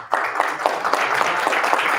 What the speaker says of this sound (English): Maybe hold your applause to the end, unless it's dramatic.